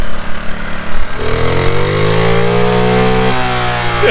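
A pit bike engine, short of carburetor tuning, revs hard while climbing uphill, its buzzing note rising in pitch after a brief sputter and holding a loud, strained whine close by.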